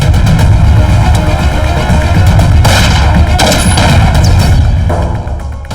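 Handgun gunfire in a South Indian action movie fight scene: dense, loud, continuous bursts of shots and impacts with no break for the full length, layered into a busy soundtrack.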